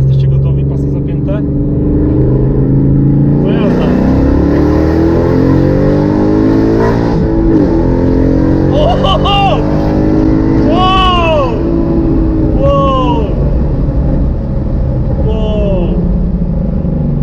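A 550 HP Ford Mustang engine revs hard and very loud with rising and falling sweeps, right up close, while voices talk over it.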